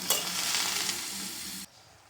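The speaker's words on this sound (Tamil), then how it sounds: "அடிக்கடி வந்து இந்த மாதிரி கிளறி விட்டு வதக்கிட்டீங்கன்னா கொஞ்சம் வத வதங்கி வரட்டும்" Bottle gourd sautéing on medium flame in a pan for a tangy Tamil kootu, stirred with a steady sizzle and scrape that runs loud and close, then cuts off abruptly near the end, with no voices.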